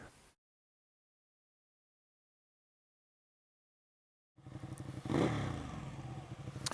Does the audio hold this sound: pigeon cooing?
no